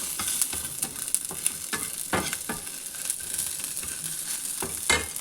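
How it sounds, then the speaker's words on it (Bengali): Sliced onion and garlic fry in a pan with a soft steady sizzle. A spoon repeatedly scrapes and knocks against the metal in irregular clicks. "পেঁয়াজটাও ভাজা হয়ে গেল দেখুন একদম সুন্দরভাবে ভেজে নিয়েছি পেঁয়াজটা"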